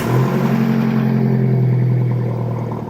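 A sports car engine with an aftermarket Akrapovič exhaust revs loudly and steadily up close, with a deep, throaty exhaust drone and a faint mechanical clatter underneath.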